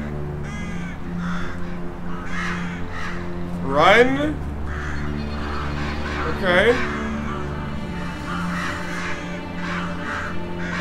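Crows cawing in the video game Selma and the Wisp, two loud harsh caws a few seconds apart over a steady low ambient drone, with someone talking briefly.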